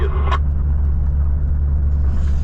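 A Volvo FH 540 truck climbing in 8th gear at half throttle on the Lena highway in Yakutia, its engine a deep, steady droning rumble heard from the cab, with a brief sharp tone at the start.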